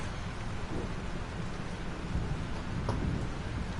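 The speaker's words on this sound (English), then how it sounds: "Y se acerca la tormenta. This storm's real." Steady heavy rain and rolling thunder from a storm in the Life is Strange video game, with a sharper crack of thunder near the end, no voices.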